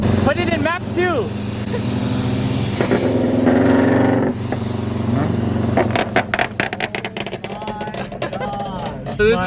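Subaru FRS fitted with a straight pipe exhaust, heard from inside another car: a loud, sustained engine roar that surges and revs in bursts, with people talking over it.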